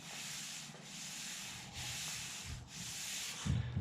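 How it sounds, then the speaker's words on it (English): A hand rubs back and forth across a sanded car door panel on a Datsun 510, giving a soft, dry scraping hiss in three or four long strokes, close and quiet with no talk. "this is my hand running against the part of the panel that I have sanded"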